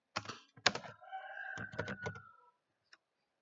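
A quick burst of key presses on a computer keyboard, a few sharp clicks followed by a rapid run of typing, then a single faint click after a pause, close and dry with no talking.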